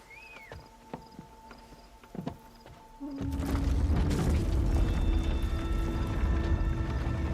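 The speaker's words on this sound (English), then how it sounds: "God, there's loads of fireworks going off." Fireworks go off outside around bonfire night, a dense run of rumbling bangs and crackles that builds suddenly partway through and keeps going, loud and sustained, over quieter sounds from a game beforehand.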